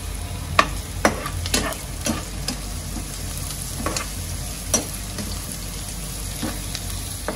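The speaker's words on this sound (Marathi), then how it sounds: "आपण तेलामध्ये चांगलं कांद्याला परतून घेतलेलं आहे." Onions sautéing in hot oil for a surnachi (suran) bhaji, with hing and chilli added, give a steady close sizzle under repeated sharp scrapes and clacks of a stirring spoon against the pan.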